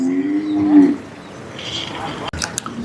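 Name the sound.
bull mooing at village bull-taming event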